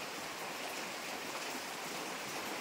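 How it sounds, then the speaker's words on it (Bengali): Steady, faint hiss of rain falling, an even wash of sound with no voices. "রাতে থেকে বৃষ্টি পড়ে যাচ্ছে"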